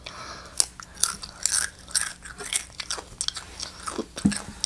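Crunchy regular Doritos nacho chips being eaten up close: repeated loud bites and crisp crunching chews in an uneven rhythm, with no talking.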